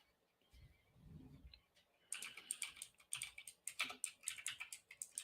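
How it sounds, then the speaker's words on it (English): Rapid clicking of keys on a computer keyboard, close and steady in quick bursts, after a brief low rumble at the start. "this is me typing for more live research"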